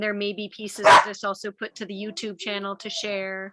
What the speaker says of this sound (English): pardon the puppy barking in the background here.